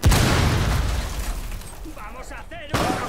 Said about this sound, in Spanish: ¡Vamos a hacer un ojo con la explosión!